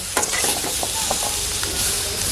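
Small shallots and garlic frying in a pan for mutton chukka: a continuous bright sizzle with intermittent scraping stirs, close and steady throughout.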